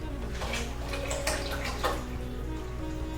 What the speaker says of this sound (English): we're going to pour a gallon of oil into this pot